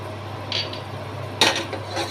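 A metal spoon scrapes and clinks against a pan while spices sizzle in oil with black cumin and asafoetida, a few short stirring strokes close up over a steady low hum.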